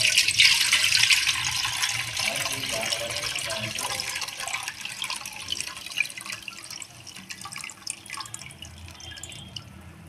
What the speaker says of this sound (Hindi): ये पानी पानी छान लिया है